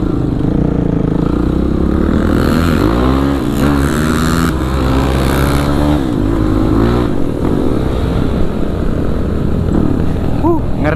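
A Kawasaki KLX 450 supermoto motorcycle accelerates hard, its engine note climbing and dropping through repeated rising sweeps of revving, loud and close throughout with wind rush over the mic.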